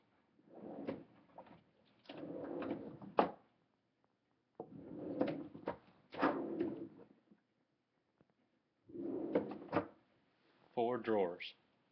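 Drawers of a Costco cabinet with glass doors and carriage-type handles slide open and shut in four separate wooden rumbles with soft knocks, followed by a brief rattling scrape, each burst close and moderately loud.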